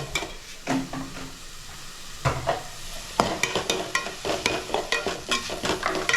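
Onion, tomato, curry leaves, mint and coriander sauté in a hot pan, with steady sizzling and repeated clinks and scrapes of a spoon stirring, loud and close with no talking.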